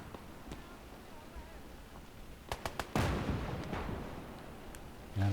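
Gunfire in the World War II game Call to Arms: Gates of Hell on a Finnish arctic map, with a few sharp shots followed by a heavy blast and a lingering rumble as an anti-tank gun is destroyed, over low battlefield ambience.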